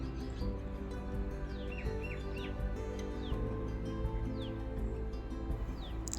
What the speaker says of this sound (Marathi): बऱ्याच चिमण्या आजूबाजूला किलबिलाट करतायत